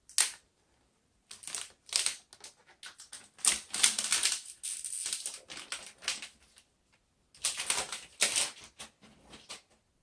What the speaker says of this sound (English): Apple must spend a bit of R&D on that to get the sound just right for the cellophane